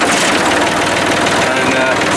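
A Massey Ferguson 135 tractor engine runs loud and close, a steady, throbbing idle with no break over the short stretch.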